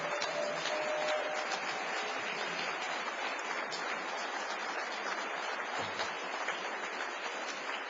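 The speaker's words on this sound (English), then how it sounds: "How about another round of applause for Keith Jones?" Applause at a presidential disability forum for Keith Jones: a steady wash of many hands clapping, evenly loud and unbroken through the whole stretch, heard as if from a slightly distant room recording.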